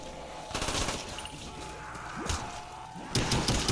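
Gunfire in Call of Duty: Black Ops, with rapid bursts of automatic weapon shots and heavier blasts over a dense game soundscape, loud and close in quick succession with no talking.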